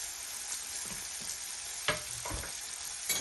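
Onions sautéing in a hot pan with a continuous sizzle, broken by a few sharp scraping stirs near the end and no voices.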